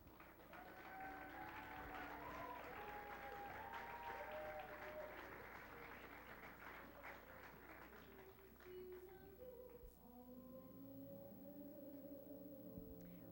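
An audience at a Miss Vernon Hills pageant gives sustained, dense applause for young contestants aged 6 to 9, steady and fairly loud throughout and tapering slightly near the end.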